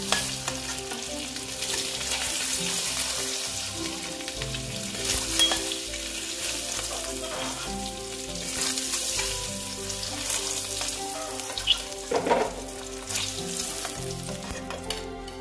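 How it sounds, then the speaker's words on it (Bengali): Steady, close sizzling of eggs frying in hot oil, with occasional scraping and stirring sounds, no voices. "মোটামুটি ডিম ভাজাটা হয়ে গেছে। এবার আমি ডিমগুলোকে তুলে নিচ্ছি।"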